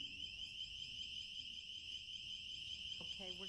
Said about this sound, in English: the alarm is going off because someone attempted to open up the emergency